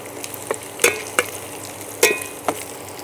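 Onions frying golden in a pan for crab gravy, a steady sizzle broken by a handful of sharp scraping stirs of a spoon against the pan, close and fairly loud.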